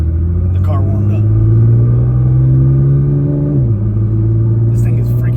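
A deep, loud Nissan GT-R R35 engine idles steadily close by while warming up, a low throbbing rumble that dips slightly in pitch partway through.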